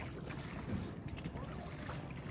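A boat moving along a river near Sylhet, a faint, steady rush of water and wind buffeting the microphone, continuous with no clear voices.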